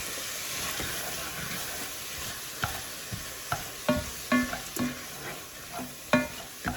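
Half a chopped onion is added to a hot pot of Zuppa Toscana, giving a steady sizzling hiss with scattered stirring clatters and scrapes growing more frequent toward the end; nobody talks.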